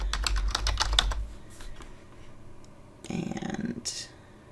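Typing on a computer keyboard while building a PowerPoint storyboard, with quick close clicks in the first second and a brief burst of keys around three seconds.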